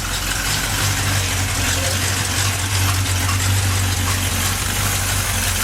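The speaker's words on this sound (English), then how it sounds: "It's running. It fired right up too." A 1966 Chevy pickup's newly installed engine idles steadily right after starting, a loud, constant low rumble close by with no break.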